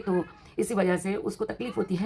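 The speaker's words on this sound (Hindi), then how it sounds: "पीछे बिल्ली की आवाज़ आ रही है" A pet cat meows behind a closed door: short, wavering cries heard under someone talking close by, several times in quick succession.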